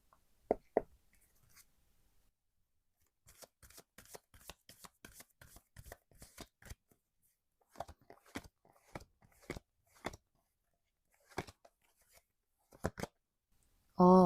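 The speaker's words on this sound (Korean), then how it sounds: "오라클 카드 2장을 먼저 뽑은 다음에 내용을 전체적으로 리딩해 보도록 할게요" Oracle cards being shuffled and drawn during a tarot reading, a run of short dry riffling and snapping bursts separated by quiet gaps, close and fairly soft, with a louder thump at the very end.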